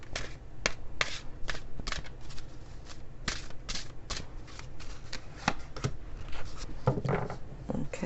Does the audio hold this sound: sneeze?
no